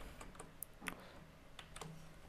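Computer keyboard typing while coding, heard as sparse, light key clicks in small irregular clusters, close and faint, with no talk.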